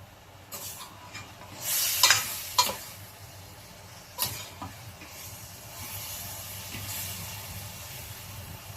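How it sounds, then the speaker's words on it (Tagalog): Pork for adobo sizzles steadily in a pan while a utensil stirs it, with a few loud scrapes and clinks over a continuous hissing fry, close by and without talk. "So, haluin lang po natin siya."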